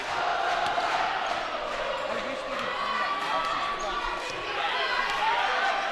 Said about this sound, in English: Most definitely a crowd.